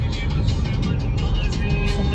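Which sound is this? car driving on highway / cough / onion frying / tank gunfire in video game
car driving on highway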